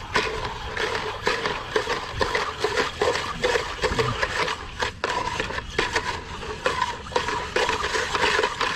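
A metal bar stirs trailer strap deicer solution in a container, making continuous scraping, sloshing and rubbing at a steady loud level with no talk.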